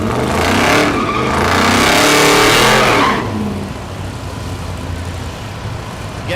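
An old-school Ford Mustang fastback, 1965 vintage, at a drag strip in Noble, Oklahoma, roars loudly for about three seconds before dropping away, leaving crowd noise and a voice underneath.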